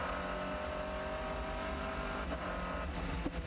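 A race car engine drones steadily up close during an American Le Mans Series race in Miami, its note dipping briefly as the throttle lifts over a bump, then picking back up.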